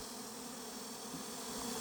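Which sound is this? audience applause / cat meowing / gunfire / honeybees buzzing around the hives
honeybees buzzing around the hives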